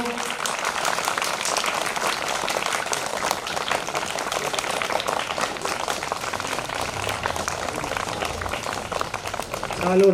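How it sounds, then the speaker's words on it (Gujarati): A crowd claps continuously at a primary school honour ceremony on a Republic Day morning, a steady, dense patter of many hands that carries on for the whole stretch with a voice faintly beneath. "આપણે થોડીક વાર માટે તાળીઓનો નાદ શરૂ"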